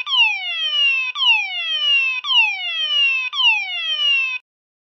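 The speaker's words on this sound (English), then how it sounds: "another fire alarm video" A Faraday 6304B fire alarm sounds four identical descending electronic whoops in a steady rhythm, loud and close, then stops abruptly into silence.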